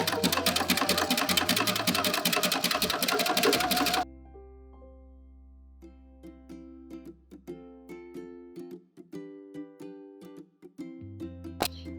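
A sewing machine stitches a dense satin stitch around a sequin appliqué, first whirring loud and fast, then slowing to a steady, spaced needle clatter with brief stops and restarts, close up.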